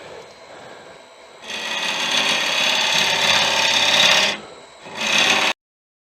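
A lathe drilling into the centre of Irish bog oak sets up a loud, close, harsh rasping grind that runs for about three seconds, stops, then returns in a shorter burst before cutting off abruptly over a low motor hum.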